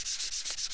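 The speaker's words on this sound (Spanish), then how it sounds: "Yo voy a lijar con 800" Sanding a PlayStation 3 plastic cover with 800-grit sandpaper: close, steady back-and-forth hiss in quick, even strokes, about six passes, with no talk.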